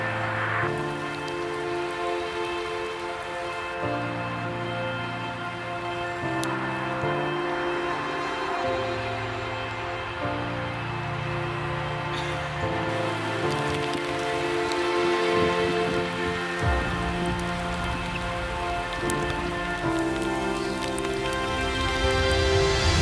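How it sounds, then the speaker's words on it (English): Hail pelts down hard outdoors in an open spot among trees, a dense, continuous rattling patter that holds steady throughout, with a tonal musical layer running underneath. "it started hailing super hard again"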